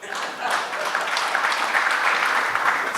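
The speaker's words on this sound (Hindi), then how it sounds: "पहले तो तालियां बजाओ जी" A conference audience applauds steadily for a few seconds at a real estate conclave in Indore, a dense wash of hand claps filling the hall.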